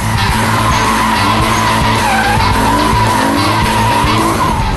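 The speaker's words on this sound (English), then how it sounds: "Do you like donuts?" Car tyres skid and squeal continuously while doing donuts in the Max Power Carnage video game, with a loud, unbroken engine roar and a wavering screech throughout, no talk.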